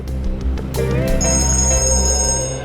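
A ringtone melody plays loudly and steadily, a bright electronic phone ring filling the moment with no one speaking.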